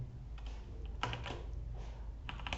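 Keys on a computer keyboard being typed in a few short bursts of quick clicks with brief pauses between, close and moderately quiet, no voices.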